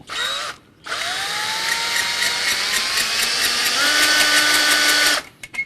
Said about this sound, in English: get the drill out